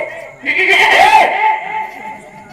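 A human voice imitates a goat's bleat during a village folk theatre performance, a single wavering nasal bleat about a second long, close and fairly loud.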